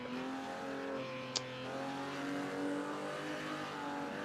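Ferrari race cars in a 1950s Formula 2 race, engines droning and revving at a distance in a steady, fairly faint roar, with one brief sharp click partway through.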